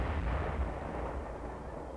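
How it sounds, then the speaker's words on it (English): Simulated battle effects at an army training exercise, with explosions and shell bursts filling the air as a dense, rumbling wash of blasts, heard at a distance and fairly faint, with no talk. "the student MSC officers get their first taste of combat as the simulated battle sounds"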